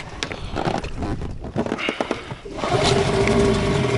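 A Gladiator 9.9 outboard boat motor fires up on its first start after choking, catching around halfway through and settling into a steady, close running drone after some clattering noises.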